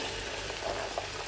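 Onions fry in hot oil with a steady, close, dense sizzle and crackle that continues without a pause.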